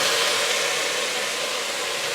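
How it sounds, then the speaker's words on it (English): Cognac hits a hot pan pulled slightly off the fire, giving a steady, loud broadband hiss and sizzle that holds evenly for about two seconds with no talk. "now it's time to go ahead and deglaze the pan with your cognac"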